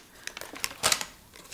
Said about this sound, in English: I'm going to make some crinkly sounds with the paper here.